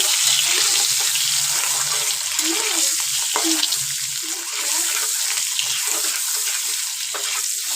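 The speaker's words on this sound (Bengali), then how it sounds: "চলো ডিমটা তাহলে ভেজে নিই" Oil sizzles and crackles steadily as an egg seasoned with salt and turmeric fries in a pan, with a few faint clinks of a utensil and brief murmurs in the background.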